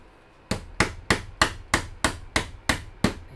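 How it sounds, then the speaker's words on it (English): A hammer strikes eight times in an even rhythm while humanoid robot actuators are assembled, each blow a sharp, close knock with a quick decay, and no one talks. "The hammer is here if you need it."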